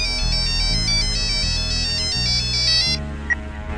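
A phone ringtone rings out loud and steady in a Hindi-dubbed Telugu thriller film, its repeating bright electronic melody over a low backing tone, cutting off near the end with a brief click.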